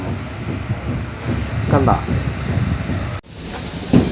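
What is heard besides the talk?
train at Chennai Central railway station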